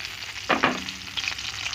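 Egg- and breadcrumb-coated zucchini slices fry in olive oil in a skillet, a soft steady sizzle broken by a couple of louder spatters as pieces settle into the hot pan.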